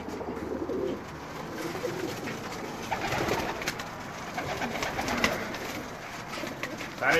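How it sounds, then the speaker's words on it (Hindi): Rooftop flying pigeons coo softly and repeatedly in a close, busy chorus, with light rustling and background clatter throughout. "ये मेरे उड़ाने वाले कबूतर हैं जी।"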